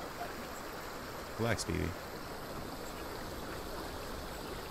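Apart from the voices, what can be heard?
Death Stranding video game canteen filling with fresh water from stream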